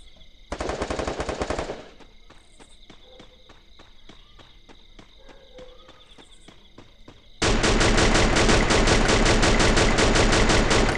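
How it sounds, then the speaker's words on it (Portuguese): Rapid automatic gunfire crackles in a multiplayer shooter video game, a loud burst near the start, then quieter distant shots and footsteps, then a sustained close burst of fire to the end. "Quem tá me atirando?"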